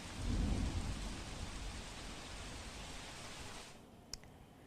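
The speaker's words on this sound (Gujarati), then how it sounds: "ભારે પવન સાથે કડાકા ભડાકા સાથે વરસતા વરસાદના કારણે" Heavy rain with strong wind roars steadily in Surat, India, and a deep rumble of thunder swells at the start, then fades until the downpour cuts off abruptly.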